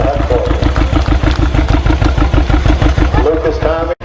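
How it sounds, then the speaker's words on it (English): Working farm tractor with worn, paintless bodywork at a John Deere expo, its engine chugging in a steady rhythmic pulse while towing, loud and close throughout with voices talking over it. "Here we're getting towed by a working tractor. Uses it every day. No paint left on it. It runs great."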